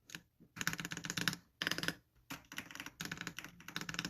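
Someone types on a mechanical keyboard with lubed stabilizers, producing close, crisp clacks in several quick bursts separated by short pauses.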